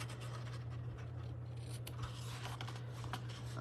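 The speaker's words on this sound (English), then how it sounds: "And then I'm going to trim the ends" Scissors trim the ribbon ends on a handmade self-closing paper treat box, giving faint, close snipping and scratching sounds over a steady low hum.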